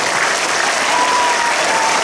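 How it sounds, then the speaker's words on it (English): Children at a school assembly applaud their classmates dressed as superheroes, a dense, steady wash of many small hands clapping that fills the whole stretch without pause. "I think we should give our very own DCIS superheroes a big round of applause."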